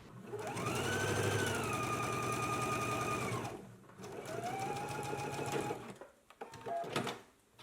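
A sewing machine sews two rows of ease stitches along a jacket front facing, whirring up to speed in close, loud bursts with pauses between, a brief softer run at the end.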